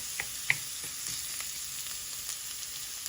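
Onions sweat gently in a pan, with a soft, even hiss of frying held steady throughout and a few faint clicks and taps over it.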